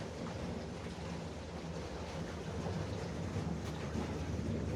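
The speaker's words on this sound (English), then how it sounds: "Third barge for the day." A massive river barge passing on the Cumberland River gives a steady low engine rumble and water wash, continuous and moderately distant, mixed with light wind noise and no talk.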